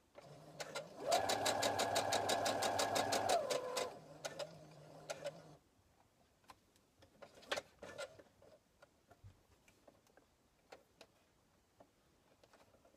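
A sewing machine stitching fabric up to a pin, heard close as a fast, even mechanical whirr for a few seconds, then stopping and followed by faint clicks and handling noises.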